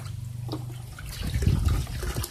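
Water pours and splashes into a bathing basin for a dog being coaxed in, a steady close-up gush that grows heavier and more turbulent midway, with no talking.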